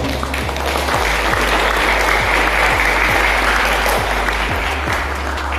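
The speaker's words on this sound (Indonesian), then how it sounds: "Aplaus untuk kita semua." An audience gives sustained, dense applause at a 2023 madrasah aliyah sports and arts closing ceremony in Sumenep. The clapping is loud and steady throughout, with a few low thumps under it.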